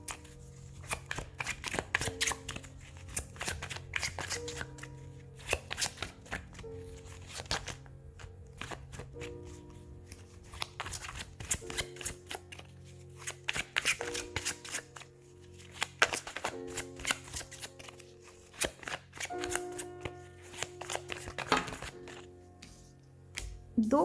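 Tarot cards shuffled by hand in a steady run of crisp riffling bursts, close and fairly quiet, with short pauses between flurries and no talking.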